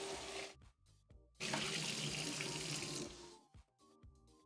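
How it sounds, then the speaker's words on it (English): Tap water runs and splashes as a container is rinsed out in a kitchen sink while goat soup is made, a close gush that cuts off briefly, surges back and then stops. "Just rinse that out."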